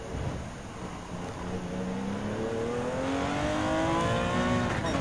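A Porsche race car in Gran Turismo 7 holds a loud, steady engine drone through a gear. The pitch climbs gradually, with a faint whine and tire rumble underneath.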